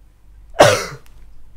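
A single sharp, close cough bursts out, followed by a brief throaty tail, then quiet room tone.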